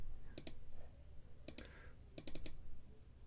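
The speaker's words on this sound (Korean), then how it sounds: "더블 클릭해줘요. 더블 클릭하면 여러 가지 설정해 줄 수 있는 게 나오는데" Quiet, crisp clicks in small clusters, mostly pairs and triplets, with short pauses between them, like a computer mouse being clicked nearby.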